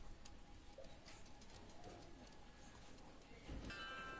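Pakistani high-flying Teddy pigeons from a direct bloodline coo softly and faintly against a quiet, hissy room background, with a brief louder knock near the end.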